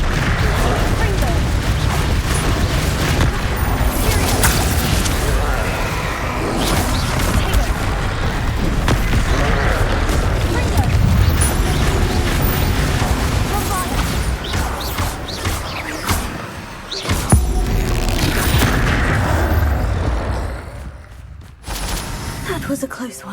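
Spell combat in Hogwarts Legacy with Bombarda explosions: a steady barrage of booms, crashes and magical blasts for over twenty seconds, loud and busy, with a sharp hit near the end before it thins out and a voice speaks at times.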